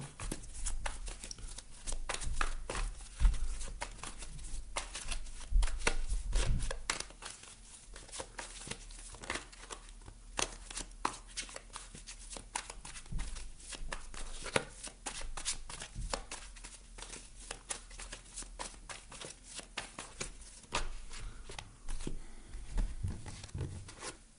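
Cards being shuffled for a tarot-style card reading, a long run of crisp riffling and rapid papery flicks with short pauses, close and steady, no talking.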